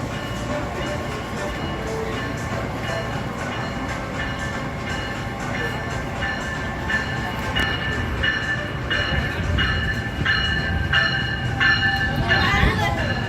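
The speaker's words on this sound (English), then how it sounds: "Beautiful multi-level train." A New Jersey Transit multi-level train rolls through Trenton Transit Center, a loud steady rumble with rhythmic wheel clicks over the rail joints that grow stronger as it passes close by.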